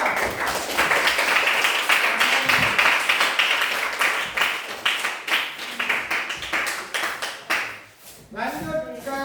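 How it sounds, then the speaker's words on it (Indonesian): Clapping for a student group in a classroom, starting as a thick burst of many hands and thinning into scattered, separate claps that die out, followed by voices talking. "Tepuk tangan untuk kelompok 3."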